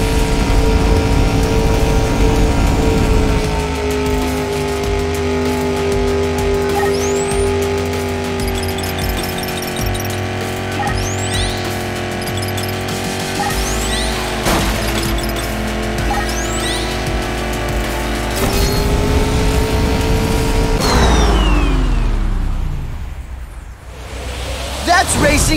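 Cars race in the Fast and Furious Spy Racers Rise of Shift3r game on Xbox Series, a loud sustained engine roar with shifting revs and brief tire squeals before the engine noise drops away near the end.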